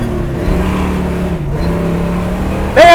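A 1969 Camaro RS/SS V8 engine pulling hard on the road, a loud steady drone heard from inside the car with a slight rise in pitch and a sharp squeal near the end.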